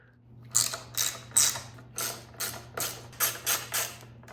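A ratchet wrench clicks in about ten quick, even bursts while loosening number 4 Allen bolts on the heat shield of a 2025 Ducati Panigale V4, close and crisp over a faint steady hum, with no talking.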